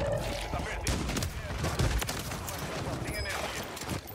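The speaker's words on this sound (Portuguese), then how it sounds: "O cara tomou tiro de sniper" Gunfire from the video game Warzone 3 crackles through a noisy match, with sharp bursts and booming shots over game sounds and a voice talking.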